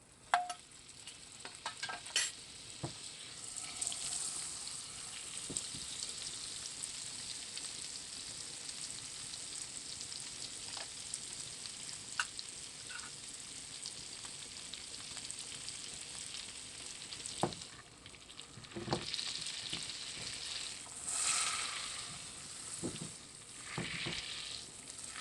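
Butter melting into hot oil in a pan for a keto palak paneer bhurji, a faint, quiet sizzle that runs steadily with occasional small pops and clicks.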